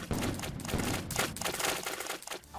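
Rapid volleys of ship cannon fire crackle from the Caribbean Admiral naval battle video game, a loud, dense run of bursts with short gaps, no speech.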